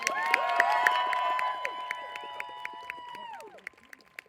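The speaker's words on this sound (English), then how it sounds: "You can give him a much bigger round of applause." Crowd at a falconry show applauding and cheering, with sustained raised voices and whoops over a patter of claps that fades out near the end.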